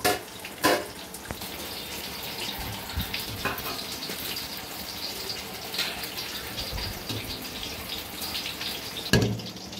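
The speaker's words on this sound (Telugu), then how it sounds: "సో మనకి వాటర్ బాయిల్ అయింది కదా, ఇప్పుడు రైస్ వేస్తున్నాము" Rice is tipped into a pot of boiling water for homemade mandi biryani, a close watery rush and splashing with a few knocks of the pot at the start and near the end, without speech.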